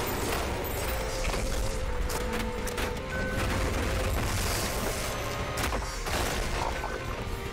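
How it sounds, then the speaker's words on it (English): Dense, continuous barrage of booming explosions and rapid gunfire from a fast action video game played on controller, loud and close with layered blasts and mechanical clatter throughout. "Holy explosion!"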